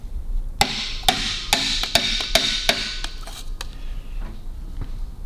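Sharp hammer taps ring out as pistons are driven down through a ring compressor into the engine bore, about a dozen distinct knocks in an irregular rhythm, close and fairly loud, then trailing off.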